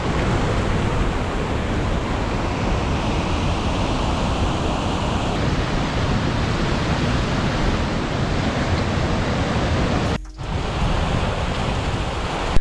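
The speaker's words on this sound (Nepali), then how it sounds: "जताततै हुसु लागेर सिमसिम सिमसिम पानी परिरहेको छ" Fine drizzle falling through fog on the high Gokyo trail in the Everest region, a dense, even hiss that fills the air without pause and dips briefly once near the end.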